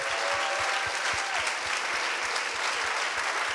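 An audience at the Green Social Summit gives a strong, sustained round of applause for the speakers, participants and organising teams. The clapping is dense and loud, with a few distinct individual claps standing out.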